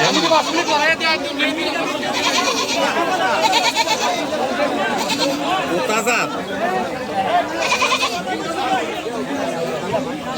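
Goats and sheep bleating at a weekly sheep and goat market in Comilla, Muradnagar, repeated bleats near and far over constant loud crowd chatter and nearby talking.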